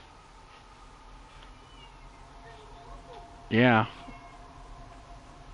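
A cat gives one short, loud meow at feeding time, standing out sharply over quiet background noise, with a brief spoken word nearby.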